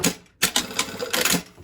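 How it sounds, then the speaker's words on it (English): A sewing machine stitching a shirt sleeve placket gives short bursts of rapid mechanical clatter with brief pauses between them, close up and without voices. "I'm just going to sew right along that previous stitch line."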